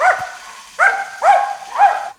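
Several sharp dog barks ring out, four in all at uneven intervals, close and fairly loud with brief quiet gaps between them and no talk over them.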